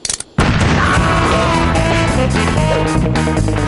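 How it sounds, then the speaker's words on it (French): A cartoon cannon explosion from the Lucky Luke Daltons story, bursting suddenly and loudly after a brief quiet moment, then rolling on as a dense, sustained roar. "Encore une explosion."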